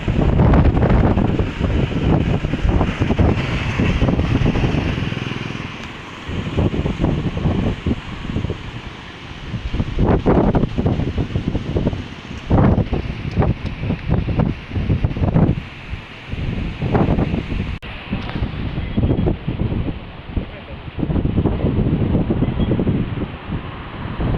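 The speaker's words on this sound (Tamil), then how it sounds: "காற்று எப்போ வீடியோ எடுக்க வந்தாலும் புயல் மாதிரி இருக்குது" Strong wind sweeps past the 110-year-old Pamban bridge by the sea, a loud, continuous rushing roar with gusty buffeting against the microphone that lasts throughout.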